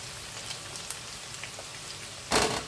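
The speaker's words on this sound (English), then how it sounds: "So we are going to leave to fry for 7 minutes." Turkey wings frying in hot oil, a steady crackling sizzle like rain on a surface, with a brief louder burst of spattering near the end.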